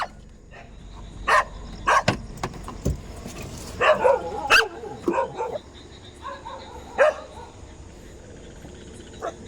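Several dogs bark in loud, scattered bursts outdoors, with yips and whimpers between them and a voice faintly underneath.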